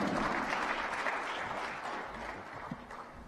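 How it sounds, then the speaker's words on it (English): A live audience claps steadily for a speaker on stage at a speaking event, a dense, sustained round of applause that tapers slightly toward the end, with no voices over it. "Another warm round of applause for Lekon Lawal."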